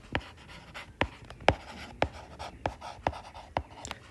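Pen strokes scratch and tap on paper while a Class 9 math problem is written out, a series of short crisp marks at an uneven pace, close and alone without talk.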